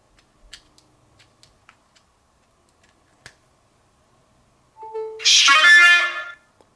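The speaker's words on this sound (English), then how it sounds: "So now you can have a custom MP3 charging sound." A custom MP3 charging sound on an iPhone running iOS 14, playing as a single short bright tone burst of about a second and a half, preceded by faint scattered taps and clicks in otherwise near silence.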